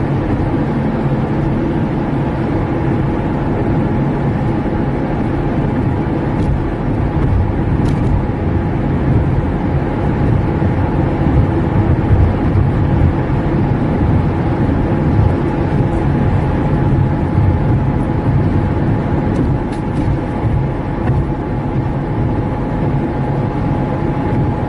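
Steady engine and road rumble from inside a car driving in traffic, a continuous low drone with tire noise that stays even throughout, with no talking.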